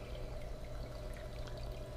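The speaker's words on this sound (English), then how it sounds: "let that water take the sand off of it" Water pours and trickles steadily across a table, washing sand off it, a continuous soft wash with no talking.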